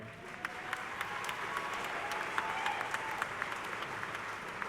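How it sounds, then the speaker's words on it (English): A broad, even roar of applause from a large crowd at a university spring commencement ceremony, distant and steady, with a few sharper claps standing out. "You can give her a round of applause."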